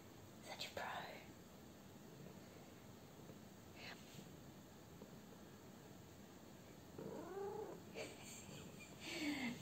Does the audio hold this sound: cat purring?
yes